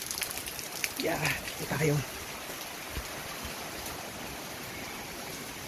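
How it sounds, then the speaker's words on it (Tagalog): Steady rain and strong storm wind hiss throughout outdoors on a tilapia farm, with a person speaking briefly near the start over the downpour. "Lakas po ng lakas ang hangin at saka ulan."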